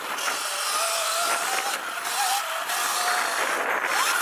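A KO Moto dirt bike engine on an off-road trail as the rider eases off the throttle, a constant loud buzzing drone with slight pitch shifts and wind rush, with no voices.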